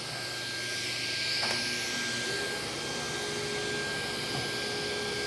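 Power saw blade cuts freehand through wood while building a deck staircase landing, a loud, steady whining hiss held close throughout with no talking.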